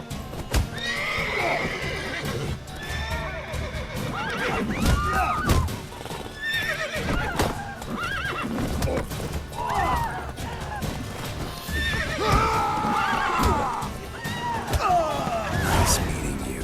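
Horses in The Witcher 3 neigh and whinny repeatedly while hooves clip-clop close by, the loud calls recurring throughout among shouts and game voices.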